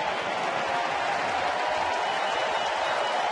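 A baseball crowd at a Pittsburgh at Cincinnati game applauds pitcher Johnny Cueto, a steady wash of distant clapping from a large stadium audience that holds evenly throughout.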